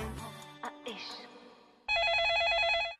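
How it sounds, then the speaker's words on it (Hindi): A telephone rings on an Indian FM radio show as the first caller comes through: a loud, bright electronic warble of about one second follows a stretch of studio sound. "तो अब हमारे पहले कॉलर का कॉल आ चुका है, हम फोन उठाने जा रहे हैं।"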